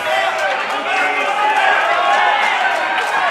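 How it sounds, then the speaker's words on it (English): A lawn bowls grand final crowd creates a steady, dense murmur of chatter and movement, loud and constant throughout, with no single voice standing out. "You can hear the crowd getting up and about."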